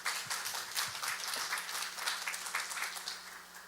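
An audience at the National Institute of Ecology's 10th anniversary symposium applauds to welcome a speaker. The clapping is dense and continuous, holding steady at moderate loudness throughout.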